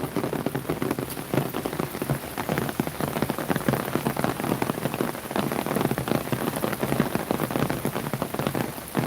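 Heavy rain falls outdoors on a foggy day, a loud, dense and constant patter of drops striking surfaces close by, with no voices over it.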